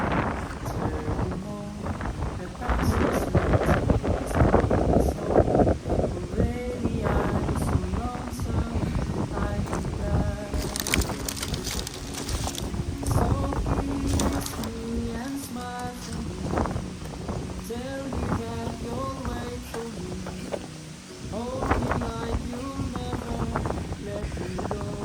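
Gusty wind buffets the microphone throughout on an open land lot, rumbling and rushing, with voices talking intermittently underneath.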